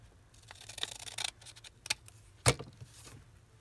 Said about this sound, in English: Oh, let's cut a little off.